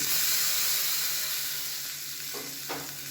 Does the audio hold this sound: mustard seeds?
yes